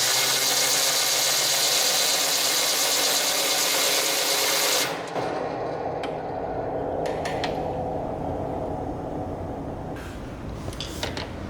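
A Promethean D60 board mount's spring adjustment is cranked too tight, a steady mechanical whirr like a power driver for about five seconds, then stopping, followed by faint clicks and small knocks against quiet room noise.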